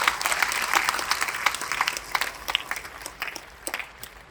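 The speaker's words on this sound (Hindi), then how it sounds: "तो एक बार आपके लिए ताली बजा" An audience at a talk breaks into applause, a dense burst of clapping that gradually thins and fades over a few seconds.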